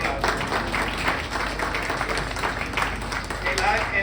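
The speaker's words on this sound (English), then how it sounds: "Let's give Martha a big round of applause." Steady applause from a crowd at the inaugural ride of a Staten Island Ferry fills the whole stretch, a continuous wash of clapping with faint voices mixed in.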